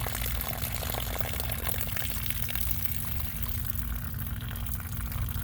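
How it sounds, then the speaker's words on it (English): Water drains out of a cut plumbing pipe on the hot water side, a steady close trickling and splashing wash that runs continuously with no talk over it. "Let that little water drain out."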